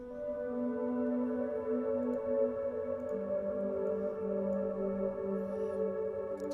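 A piano melody drenched in fully wet shimmer reverb set to single reverse pitch mode becomes a continuous swelling pad, sustained tones blurring into each other without gaps, steady and moderately loud.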